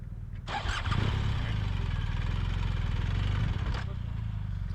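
BMW adventure motorcycle on a sand pit training course, its engine firing up after a brief quiet moment and settling into a loud, steady idle close by, then dipping slightly near the end.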